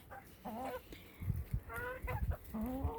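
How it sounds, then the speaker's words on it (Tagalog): Several chickens, including bantams and Rhode Island Reds, cluck softly and repeatedly at close range, short throaty calls overlapping in an uneven rhythm. "Sari-saring klase ng manok mayroon kami dito."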